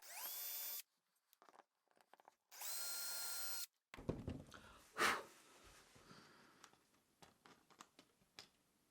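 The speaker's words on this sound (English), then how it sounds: "we're now going to drill some holes where we want the fence to be placed" Two short bursts of a small power drill whirring as it bores holes for model railway fences, separated by silence, followed by scraping, knocking and handling noises close by.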